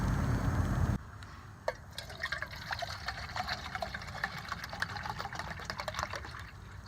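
Water from a plastic water bottle pours into a cup beside a camp stove, a soft continuous trickle and splash that follows a brief burst of louder noise, fairly quiet with no one talking.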